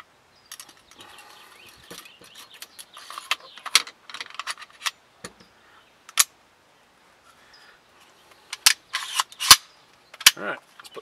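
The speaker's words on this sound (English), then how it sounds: "I need to put the 300 Blackout recoil spring on the guide rod here." Metallic clicks and clacks come from fitting a 300 Blackout recoil spring onto the guide rod of an ARAK 21 rifle, sparse and light at first, then sharper, louder snaps toward the end.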